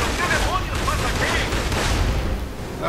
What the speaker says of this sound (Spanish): ¡Disparen a los cabeza de cubeta!